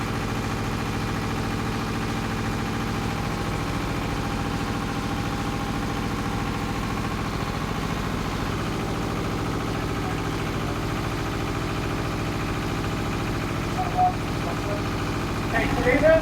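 A tractor engine idles steadily at low pitch, a constant near rumble running throughout, with brief knocks near the end.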